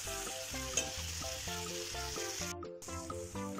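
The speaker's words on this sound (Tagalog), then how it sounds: "Gisa-gisa pa ng konti." Ripe bitter gourd (ampalaya) sautéing in a pan, heard as a steady close sizzle under a loud, rhythmic pulsing tone that repeats throughout, with a short break near the middle.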